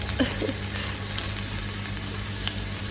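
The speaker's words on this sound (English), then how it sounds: "Okay, so now it's all sizzling away." Thai curry paste frying in a pan as tofu goes in, a steady broadband sizzle throughout with faint clinks of stirring near the start.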